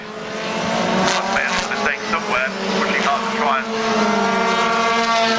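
A Formula 3 race car in the 2012 MSV F3 Cup at Brands Hatch holds a loud, sustained engine whine that rises and falls in pitch, with commentary running over it throughout.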